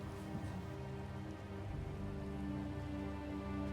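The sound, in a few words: rain falling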